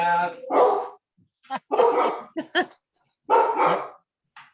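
Sharp, close dog barks over an open line on a webinar call come in irregular bursts separated by brief silences, some yippy and some deeper.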